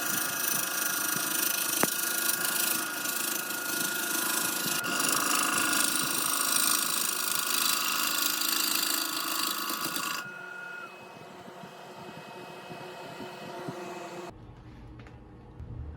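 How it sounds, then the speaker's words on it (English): A sharp powdered-metal gouge cuts a wooden bowl with red epoxy repair on a lathe, making a continuous harsh, dense scraping hiss. About two-thirds of the way through it turns noticeably quieter, then fades out near the end. "It's cutting fine with a sharp gouge."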